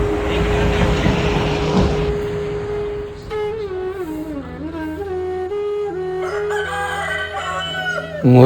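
A rooster crows before dawn, around half past three, outside the Subrahmanya Swamy temple on the Tiruvannamalai hill circuit. Steady background noise gives way to a loud, clear crow and then repeated drawn-out calls, close by and not masked by talk.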